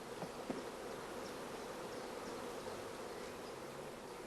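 Bees buzz in a soft, steady hum around beehive frames, a dense swarm drone with a couple of brief faint knocks near the start, heard quietly and without talk.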